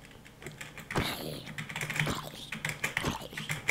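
Quick, irregular keyboard taps and clicks sound close by, some louder than others, with faint speech in the background.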